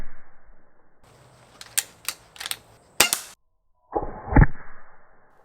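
HP Max airgun fired at a zombie target, several sharp snapping shots in quick succession at close range, followed by a louder crack and a burst of impact noise, with no talking.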